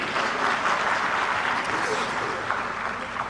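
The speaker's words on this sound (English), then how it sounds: "If we don't clap for ourselves, who is going to clap for us?" Steady applause from an audience at a women's initiative gathering honoring Swami Vivekananda, dense and continuous throughout with no pauses, fairly loud and close.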